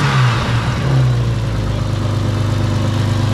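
BMW S38 inline-six in an E30 project car revving through its exhaust, a loud, steady low drone with a couple of throttle blips at the start, close by with no talk.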